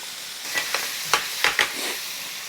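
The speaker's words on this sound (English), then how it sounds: "And now it's time to just stir fry." Beef and broccoli stir-fry in sauce in a hot pan, a close sizzle broken by several quick scraping tosses of the spatula.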